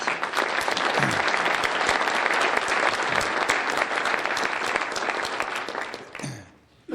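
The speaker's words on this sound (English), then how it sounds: "please give our highway commissioners a round of applause" Sustained, loud audience applause at a governor's announcement of new Arkansas highway commissioners, dense clapping filling the room for about six seconds before fading out abruptly near the end.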